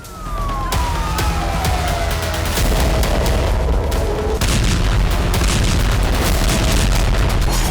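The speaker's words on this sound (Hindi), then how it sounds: "गाजा में पिछले करीब 4 महीनों से सिर्फ बमों की आवाजें ही सुनाई दे रही हैं।" Wartime bombardment in Gaza: a loud descending whistle glides down over heavy, continuous low rumbling and booming blasts, with no voices.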